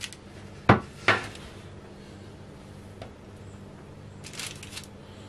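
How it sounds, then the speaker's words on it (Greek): Cookie pieces set onto a parchment-lined baking tray, two sharp clinks close together early, then a faint tap and a soft rustle, no talk. "Πάμε να τα βάλουμε σε ταψί με λαδόκολλα."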